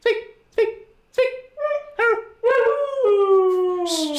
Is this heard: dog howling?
yes